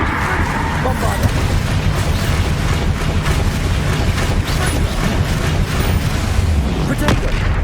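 Bombarda spell blast in the wizarding game Hogwarts Legacy: a dense, loud, continuous wash of booming impacts and crackling debris, with a voice shouting over the chaotic battle noise.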